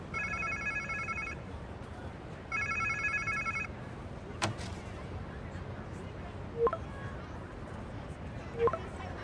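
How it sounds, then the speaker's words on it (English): In the video game Marvel's Spider-Man 2 on PS5, a telephone rings in two electronic bursts against a steady background hum, followed by a few scattered clicks and thuds. "Sounds like somebody's phone."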